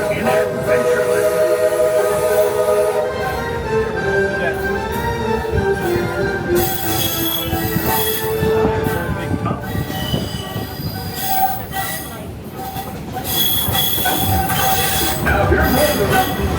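A steam train on the Walt Disney World Railroad at Magic Kingdom squeals loudly as its wheels grind through a curve, with shifting high metallic tones over the clatter and rumble of the cars.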